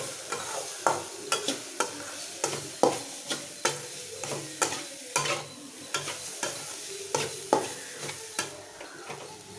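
A spoon stirs pepper powder into cooked vegetables in a pan, scraping in a steady rhythm of about a dozen close, distinct strokes over a faint sizzle.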